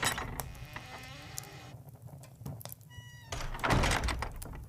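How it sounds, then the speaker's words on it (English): A door opens in a quiet room in an ASMR roleplay, with soft thunks and creaking that builds to a heavier knock and rustle near the end. "I'm going to open the door."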